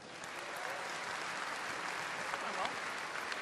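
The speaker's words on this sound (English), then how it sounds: "How about one last round of applause for our panelists?" A panel audience at a Heart of the Swarm campaign and lore Q&A gives a final round of applause, a dense, even wash of clapping from many people, steady and somewhat distant.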